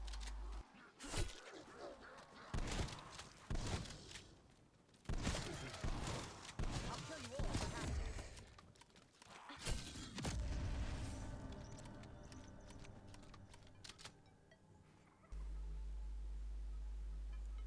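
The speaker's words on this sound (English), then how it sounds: "So you've seen the little explosion there" Small in-game explosion in Call of Duty Outbreak zombies mode, a short burst amid gunfire and game effects, followed by ringing tones and a steady low hum.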